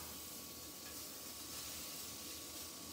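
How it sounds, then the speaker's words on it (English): Potatoes frying in hot oil in a pan, a steady faint sizzling hiss that stays even throughout with no talking. "once your oil is simmering in your pan and it's nice and hot, you want to add your potatoes"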